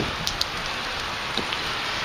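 Pouring rain falls at night outdoors in Oshawa, a steady dense hiss of drops with a few brief louder ticks close by.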